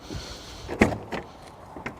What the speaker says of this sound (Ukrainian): Вам не потрібно гупати, бухкати дверима. Вони всі закриваються м'ягесенько.